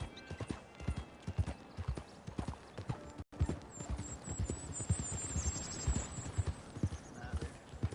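A Tennessee Walker horse's hooves clip-clop in the Red Dead Redemption 2 video game, a steady, fairly close rhythm of hoofbeats with a brief dropout midway and faint high chirps later.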